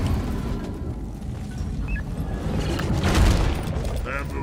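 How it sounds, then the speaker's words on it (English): Explosives going off in a video game, a loud rumbling blast building to a heavy boom near the end, amid scattered gunfire and game effects. "Explosives, boys."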